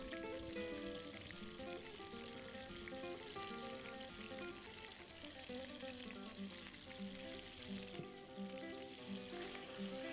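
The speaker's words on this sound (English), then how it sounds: "in a generous puddle of olive oil, the pieces of meat are lightly browned on all sides" Pieces of game meat browning in a generous puddle of olive oil in a pan for Andalusian andrajos stew, a continuous dense sizzle under a constant layer of background music.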